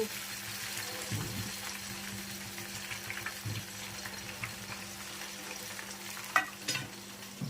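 Spices crackle and sizzle in hot oil for a Gujarati handvo tempering with dried red chilli and sesame seeds, a steady fry with stirring clatter and occasional louder pops, the noise continuous throughout.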